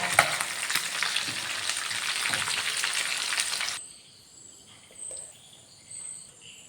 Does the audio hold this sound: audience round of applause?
no